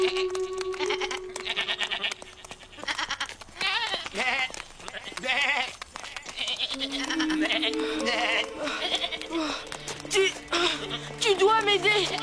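Several goats bleat repeatedly over a noisy background, overlapping wavering cries near and far, with a voice calling out among them.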